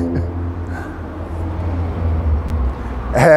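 A car passes along a public road outdoors, a broad, rising and falling low rumble that swells toward the end, with brief voices at the start and close by at the finish.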